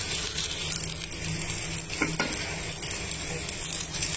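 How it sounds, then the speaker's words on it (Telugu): Roasted peanuts are stirred into a pan of frying onions and green chillies for a hotel-style groundnut chutney, with a steady close sizzle and a few scraping stirs of the spoon. "పల్లీలు వేసి అటు ఇటు మిక్స్ చేసుకోవాలి."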